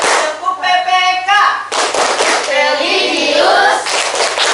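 A classroom of pupils performs the Tepuk PPK clapping chant, voices chanting together while hands clap in quick rhythmic bursts, loud and close throughout.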